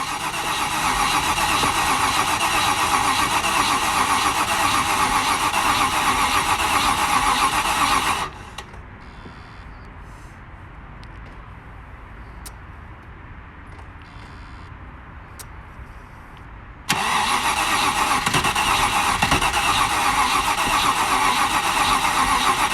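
A Range Rover Classic engine cranks and fires in a loud, steady burst that suddenly cuts out into near silence, then resumes just as loudly, with no talk over it.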